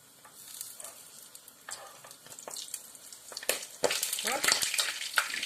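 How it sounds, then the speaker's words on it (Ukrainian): Oil sizzles and crackles in a pan over slightly above medium heat as cabbage pies on custard dough fry, quiet at first and then growing busier, with sharp spattering pops. "Смажу на огні чуть більше середнього."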